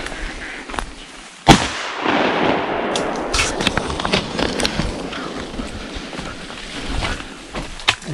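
One sharp, loud shotgun shot cracks nearby during a duck hunt, followed by a steady outdoor rustle and wind noise.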